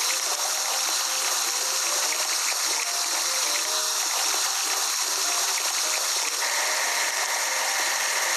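Water spraying to wash a digging machine in a construction game, a steady hissing rush with a faint machine hum underneath, even and unbroken throughout.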